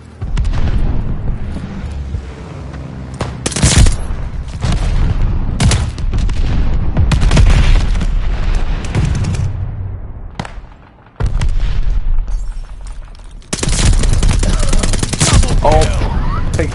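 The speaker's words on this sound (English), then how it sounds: "Friendly bombing run inbound." Heavy explosions from a friendly bombing run in Call of Duty: Vanguard land as loud, booming blasts in repeated bursts, with brief lulls between waves and faint battle noise underneath.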